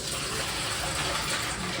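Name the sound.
water running while rinsing rice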